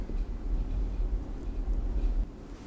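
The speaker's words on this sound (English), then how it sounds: "I'm gonna wait for the subway." A subway train rumbles steadily with a deep, continuous low roar and faint metallic squeaks above it.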